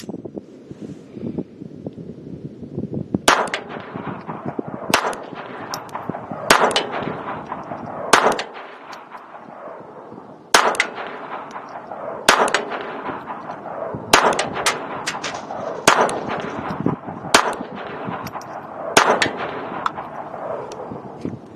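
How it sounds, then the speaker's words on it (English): Federal hypervelocity .22 rounds fired from an LCP 2 pistol outdoors at an old metal propane tank about 50 yards out: a series of sharp, loud gunshots at irregular intervals, each followed by a decaying ring, with light wind noise between. "what I'm shooting at is a metal, it's an old propane tank. It's about 50 yards out."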